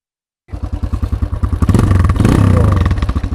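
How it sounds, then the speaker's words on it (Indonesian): A carbureted Kawasaki motorcycle engine with a stock exhaust like a KLX 150 fires up after a moment of silence, thumping in a fast, even pulse close by, then swells briefly with a rev before easing back. "Nah, suaranya KLX 150 banget ya."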